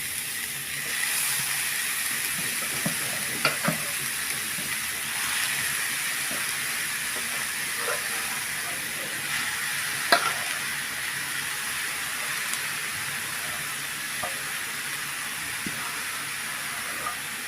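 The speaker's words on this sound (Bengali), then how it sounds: "এখন গাজরগুলো ছাড়িয়ে দিচ্ছি ঘির মধ্যে" Carrots frying in ghee for sweet carrot vermicelli, a soft continuous hiss and sizzle with occasional light pops and utensil taps, steady throughout and fairly quiet.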